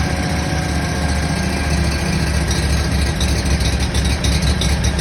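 A choked engine running on a cold start, idling with a loud, steady, rough low rumble and vibration that continues without a break.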